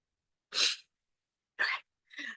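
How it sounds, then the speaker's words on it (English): Three sharp bursts in quick succession: a sneeze, then two shorter sneeze-like exhalations, close and fairly loud against silence. "I have to sneeze, I'm sorry."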